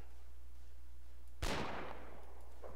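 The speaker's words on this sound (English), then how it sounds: "Nice cannon shot." One sharp cannon blast in a multiplayer video game hits suddenly against a quiet low hum and trails off in a short decaying rumble.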